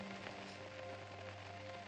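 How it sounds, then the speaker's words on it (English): Steady rain falls and patters continuously on surfaces outdoors, a dense even hiss at moderate level with a low hum beneath and no voices. "I don't care about the rain. Let it rain."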